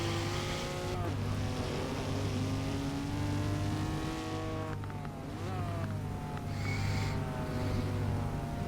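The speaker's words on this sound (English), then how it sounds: "Look at the exhaust backfire." A race car in a night Sport Touring Series round at the Nürburgring GP circuit in a racing video game, engine howling and shifting under constant commentary, with brief exhaust backfire pops cutting through the steady roar.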